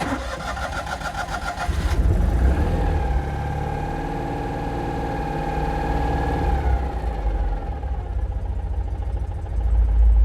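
A Citroen 2CV engine cranks and fires up, then settles into a steady, near, mid-pitched idle that hums evenly for several seconds. No one speaks.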